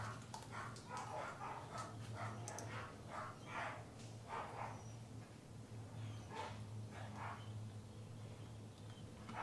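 Several dogs bark and whimper in short repeated bursts at middle distance, over a steady low hum, with no talk.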